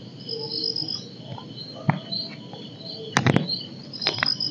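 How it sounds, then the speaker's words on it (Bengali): Crickets chirp continuously in a forest at night, a steady shrill trill close by, with a few sharp knocks and brief rustles breaking through near the end. "এটা ঝিঝি পোকার ডাকি হবে।"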